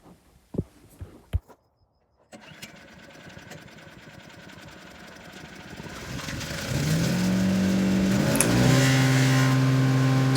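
A Harbor Freight wood chipper engine: a few sharp knocks, then the small engine catches and runs, its drone building louder and steadier with a strong humming tone over the final seconds.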